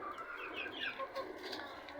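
Chickens on a farm, with hens and their rooster clucking and chirping faintly and a little way off, giving several short overlapping calls over low background noise.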